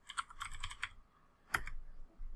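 Crisp keystrokes on a computer keyboard as a short command is typed: a fast run of four or five clicks, a pause, then a couple more taps, close and fairly quiet.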